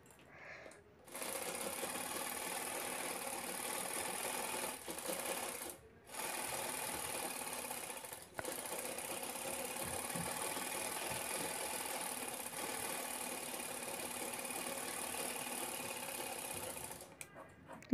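A sewing machine quilts a 14x12-inch lined handbag panel with a canvas layer, stitching in a fast, steady whir with two or three brief stops.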